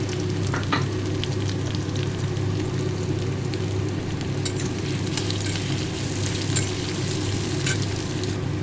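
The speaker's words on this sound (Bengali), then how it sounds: "পেঁয়াজ কুচিগুলো দিয়ে দিলাম" Steady, dense sizzling of chopped onions frying in hot oil with garlic, loud and close, continuing without pause and with no voices.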